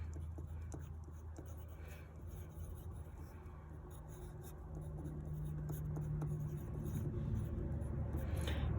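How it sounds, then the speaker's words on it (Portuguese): Handwriting on a surface while a formula is worked out, a steady soft scratching and rubbing of pen strokes over a low background rumble, fairly quiet and continuous without talk. "Vamos escrever a formulazinha aqui."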